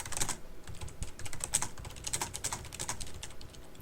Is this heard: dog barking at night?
no